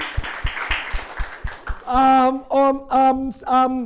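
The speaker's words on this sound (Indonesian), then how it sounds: "Tepuk tangan untuk mereka para karyawan-karyawati" A few rhythmic hand claps sound close by, followed by a voice chanting in short, evenly spaced bursts.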